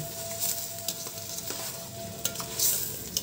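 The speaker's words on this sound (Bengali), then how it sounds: "সবগুলো দেওয়া হয়ে গেলে এবার পুরো মিশ্রণটিকে ভালোভাবে নাড়িয়ে নেব।" Chinese vegetable fried rice with chopped green chillies and pre-fried eggs is stirred in a sizzling pan, spoon scrapes and clatters landing in an irregular rhythm over a steady fry hiss, close and fairly loud.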